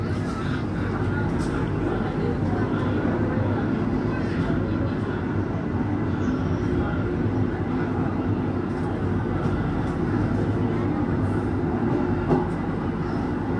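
A CL Supas commuter train pulls out of Bangil station toward Tanggulangin, a steady loud rumble of wheels and motor heard from inside the carriage, continuous and even throughout with faint background voices.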